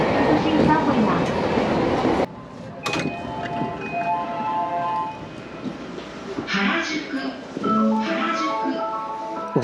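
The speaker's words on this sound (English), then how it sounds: "Right now, we are at the JR Harajuku Station. This green line is called the Yamanote line" Yamanote line train at JR Harajuku Station in Tokyo, a loud rumble and clatter of the rolling train that drops away as the doors open, then station platform noise with tonal chimes and voices nearby.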